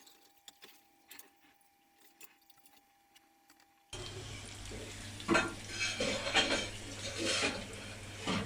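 Falafel-style patties, somewhat failed and not holding together well, are turned over in a frying pan. After a quiet stretch of light clicks, a loud oily sizzle rises, broken by scraping and flipping sounds.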